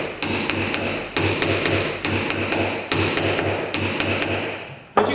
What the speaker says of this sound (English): All we do now, hammer, gently tap that side, gently tap that side.